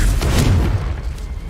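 A Confringo explosion spell from Hogwarts Legacy bursts with a loud, low booming blast that rolls on as a dense rumble for the whole moment, with no talk over it.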